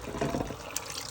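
A short, close pour of chicken stock into a pot of Iraqi biryani rice with spices and turmeric: a quick liquid splash and gurgle that stops within about a second.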